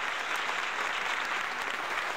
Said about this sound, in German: Ist der Applaus laut genug oder leise genug